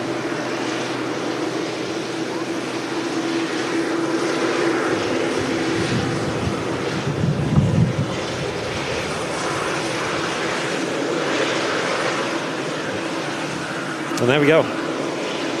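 A Saudi Boeing 787 airliner in special Arabic calligraphy livery at Manchester Airport gives off a steady, moderately loud jet engine roar that holds for the whole stretch, with a voice talking over it.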